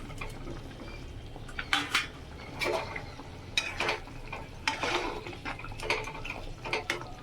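Prawns and whole green chillies go into a boiling coconut-mustard gravy, followed by repeated stirring scrapes and clatter against the pot over a soft, steady bubbling background.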